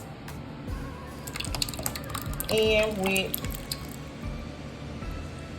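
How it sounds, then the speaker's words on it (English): Marinara sauce being mixed with stewed tomatoes for a Chicago-style deep dish pizza gives wet squishing and splattering sounds, close and uneven, with a few brief spoken words. "now I am going to mix my marinara sauce"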